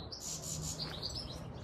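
Small birds chirp in a sweet pea garden in June, with a string of thin, high tweets over a soft, rough background rustle, moderately faint and with no voices.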